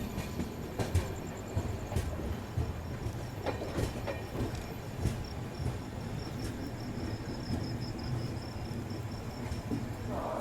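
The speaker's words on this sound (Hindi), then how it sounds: "हमारी ट्रेन पहुंच चुकी है रतलाम जंक्शन" The Shanti Express pulls into Ratlam Junction on the Western Railway, producing a steady low rumble with scattered metallic clacks over about ten seconds. Insects chirp faintly in the background and no one speaks.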